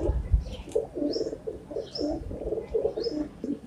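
Racing pigeons coo in a loft, a series of soft rhythmic coos repeating steadily at close range with faint chirps above, no talking.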